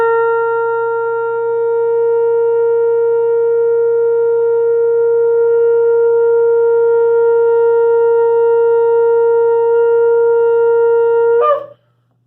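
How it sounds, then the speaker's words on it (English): A long shofar blast, the tekiah gedolah, sounds as one steady, loud, reedy note held for about eleven seconds before it cuts off abruptly. "Hear this great shofar sound ushering in the Messiah."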